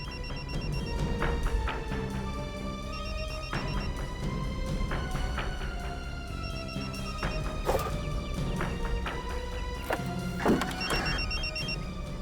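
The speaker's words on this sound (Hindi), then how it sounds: "सर, मोबाइल के बजने की आवाज आ रही है।" A mobile phone rings from inside a post box, a repeating electronic ringtone melody in steady bursts that carries on throughout, fairly loud and fully audible, with no one talking over it.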